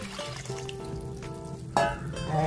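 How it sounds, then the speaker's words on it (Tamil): Tamarind water poured into a pot of cooking okra mandi with field beans, a steady liquid trickle running for a couple of seconds before a louder splash near the end. "கழநீரை இதில் ஊற்றணும்."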